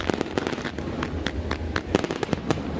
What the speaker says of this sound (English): Powder Fireworks putting on a show for us here this evening.